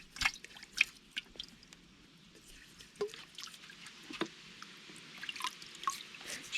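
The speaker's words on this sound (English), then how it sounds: "we rinse the rocks off another time, checking any crevices, and back into the drum they go" Water dripping and splashing over tumbled rocks as they are rinsed clean between polishing stages, with soft irregular trickles and small clicks of stone, fairly quiet and close.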